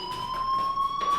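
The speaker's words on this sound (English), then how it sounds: "do you hear that fire alarm?" A fire alarm rings in the Life is Strange video game, a steady electronic tone that holds for the whole moment with slight pulsing, fairly loud and alone.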